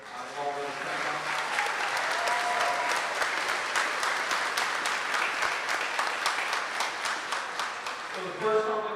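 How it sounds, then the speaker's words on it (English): A concert audience applauds a high school string orchestra at a pops concert, dense steady clapping filling the whole stretch, with a few voices murmuring under it near the start and end. "just wanted to give them a big round of applause"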